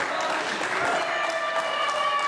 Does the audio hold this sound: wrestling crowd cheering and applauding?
yes